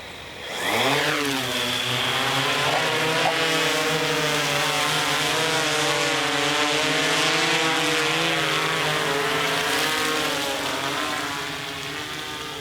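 A camera drone spins up and lifts off, its propellers rising quickly into a loud, steady buzzing whine with layered harmonic tones that wavers as it hovers and flies, close at first and easing slightly near the end.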